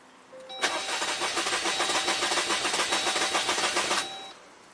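A 2019 Jeep Rubicon Pentastar V6 with a misfire is cranked over by its starter during a compression test, a steady rhythmic whirring chug lasting about three and a half seconds, close and clear with no voices.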